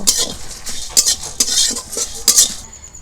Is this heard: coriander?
yes